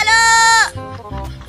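A goat gives a loud, close, drawn-out bleat that ends abruptly, followed by softer rustling and low murmuring.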